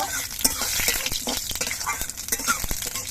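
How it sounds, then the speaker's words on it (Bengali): Panch phoron spices and radhuni crackling and sizzling in hot oil, with sharp pops and spatters over a steady frying hiss, close up. "এবার সব মশলাগুলো ভেজে নেব"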